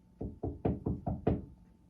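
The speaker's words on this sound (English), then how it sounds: "you hear a knock at your door" Six firm knocks on a door come in a quick, evenly spaced run, moderately loud and close, with nothing else heard around them.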